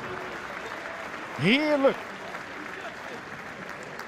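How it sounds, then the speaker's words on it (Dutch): Crowd applause from the stands at a Dutch youth football match between Jong Ajax and FC Eindhoven, a moderate swell of clapping beneath a commentator's ongoing speech, with a brief louder burst midway. "Krijgt terecht applaus hier."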